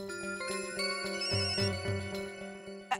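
A telephone ringtone plays in a repeating electronic melodic pattern, steady and moderately loud, with no voices over it.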